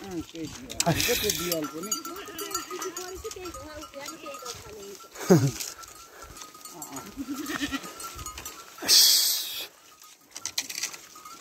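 Goats bleat several times in a rural setting where sheep and goats are herded to the forest, wavering calls at moderate distance with people talking in between.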